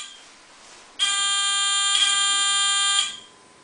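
A buzzer on a fischertechnik robot sounds a loud, sustained electronic tone lasting about two seconds, with a faint hum before it.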